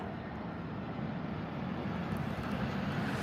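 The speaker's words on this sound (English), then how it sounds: "EasyJet on its way in" An EasyJet Airbus A320 airliner approaches to land at Birmingham airport, heard as a steady, low, broad engine rumble at a moderate distance that swells slightly toward the end, with no talking.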